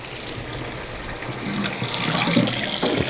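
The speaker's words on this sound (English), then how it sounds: "I'm gonna run some hot water." Hot water runs steadily from a faucet into an under-mount sink set in granite, a continuous hissing splash that grows slightly fuller toward the end, with no talking.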